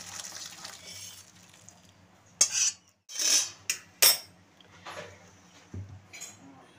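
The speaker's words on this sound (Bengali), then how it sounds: "আমার ঘুগনি হয়ে গেছে, আমি ঢেলে ফেলছি" Ghugni is poured out of a metal cooking pot: a spoon scrapes and clanks against the pot in several short, close bursts separated by quiet gaps.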